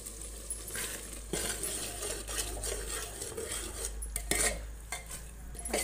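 Goat offal (vajdi) being stirred with masala in a metal pot, a steady run of scraping, clinking spoon-on-metal strokes close up, with a few sharper knocks and a faint sizzle beneath.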